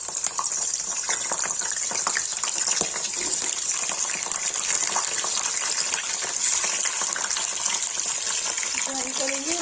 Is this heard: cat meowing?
no